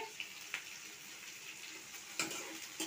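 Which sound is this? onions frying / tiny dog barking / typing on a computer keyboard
onions frying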